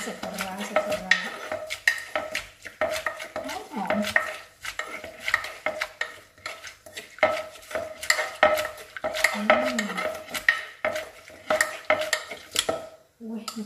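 A pestle pounds and stirs a radish salad dressed with fermented fish in a mortar, giving repeated close knocks and scraping clatter in an uneven rhythm, with a voice speaking briefly in between.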